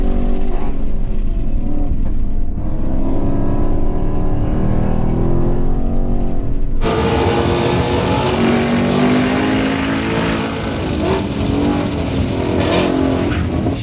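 A 2025 Ford Mustang FP800S with a 10-speed automatic, driven hard with tires worn from press drives: loud engine roar rising and dropping through gear changes, up close and continuous with no talk.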